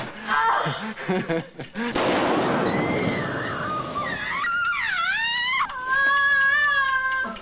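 A bomb goes off in a television drama scene: a loud broadband blast roars for a couple of seconds, followed by long rising and falling wailing tones.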